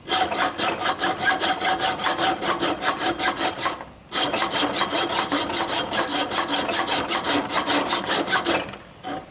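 Hacksaw cutting through the cam cover of a 1971-76 Harley-Davidson XL Sportster Ironhead, a steady run of rapid, close rasping back-and-forth strokes with a brief pause near the middle.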